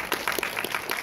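An audience at a Voltron fan convention panel at FanExpo Dallas claps steadily in a dense, brief round of applause filling the room.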